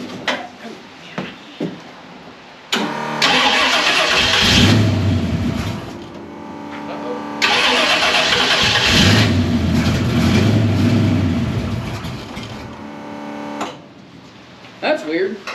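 A 1961 Ford Falcon engine cranks, catches and runs in two loud, rough bursts, revving and sagging before dying back, with talk in the quieter gaps.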